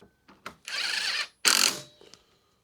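A 4mm hex power driver drives screws into an Inmotion V9 electric unicycle wheel, giving short whirring bursts, two longer buzzing runs and a few brief clicks with silence between.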